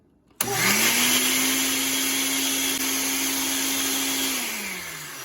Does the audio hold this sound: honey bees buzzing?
no